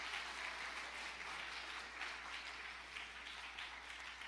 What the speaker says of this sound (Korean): 아빠들 박수 한번 쳐주세요